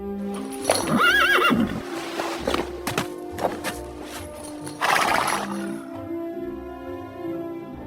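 A horse whinnies loudly with a rising-falling neigh, then hooves clip-clop in a few uneven steps with clinks of tack, all close and alone without talk, in a fairy-tale setting where a prince dismounts his horse in the forest.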